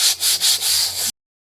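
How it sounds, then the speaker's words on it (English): Very fine sandpaper rubs over a wooden ornament storage box in about four short, close strokes with brief pauses between them, then stops abruptly. "I'm going to go over just slightly with this very fine sandpaper"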